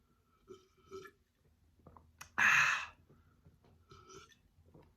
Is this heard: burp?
yes